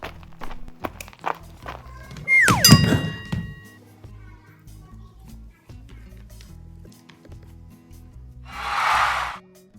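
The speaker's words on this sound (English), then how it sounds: "we've sped the sound of the footsteps up to match the video and dragged it across both clips that have walking in them" Sped-up footstep sound effects play in a video editor as a string of quick, thudding steps, with a loud clunk and ringing tone near the start and a burst of hiss near the end.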